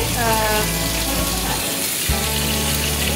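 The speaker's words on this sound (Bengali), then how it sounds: "এখানে আমি লুচি ভেজে নিচ্ছি" Luchi deep-frying in hot oil for a beef chaap meal, a steady close sizzle and bubbling that runs throughout, briefly dipping near the end before resuming at full strength.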